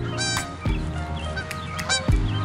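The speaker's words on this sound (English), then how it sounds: "As the geese have come to visit." Geese drop in on an outdoor blitzball game and honk nearby, two loud, falling honks standing out above steady ambient noise.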